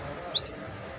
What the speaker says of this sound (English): my Finch bird